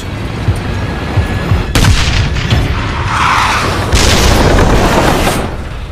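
A rocket fired at a T-54 tank during an armoured battle in Vietnam: a loud, sharp blast, then a rolling rumble and a second heavy burst a couple of seconds later.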